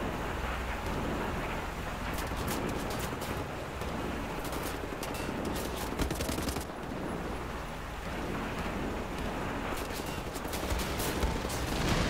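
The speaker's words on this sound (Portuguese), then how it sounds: "Muito tiro." Heavy gunfire rattles in the video game Wolfenstein: The New Order, dense bursts of shots crackling over a constant roar of noise, loud and sustained with brief lulls.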